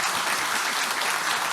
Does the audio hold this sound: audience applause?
yes